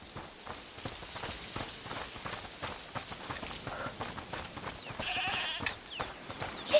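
Goat bleating in the A Plague Tale Requiem video game, several short wavering bleats over footsteps and faint ambience, at moderate distance.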